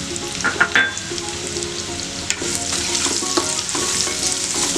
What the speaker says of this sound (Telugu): కొద్దిగా బాదం పలుకులు వీటితో పాటు వేయించుకోవాలి.